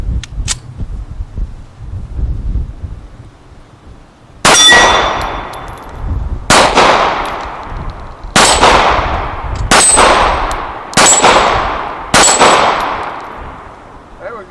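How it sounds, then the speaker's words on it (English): A Sig Spartan 1911 in .45 ACP fired at steel targets: five loud, sharp shots spaced a second or two apart, each followed by a ringing metallic clang that decays slowly, after a few quiet handling clicks. "Let me load it up and shoot just a few more times."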